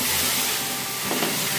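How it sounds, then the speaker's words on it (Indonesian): Chili peppers frying in oil in a pan for sambal belacan give off a dense, continuous sizzle and crackle, close and loud throughout. "Kemudian kita goreng cabai"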